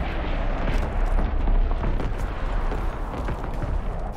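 A Call of Duty WWII artillery barrage pounds the area with a dense, continuous rumble of overlapping explosions and booms, loud and close, and no distinct gaps between the blasts.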